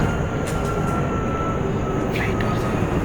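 A fixed-wing airplane passes overhead near a multi-storey hostel, its steady loud roar filling the whole stretch with broad, unbroken engine noise while voices are faintly audible beneath it.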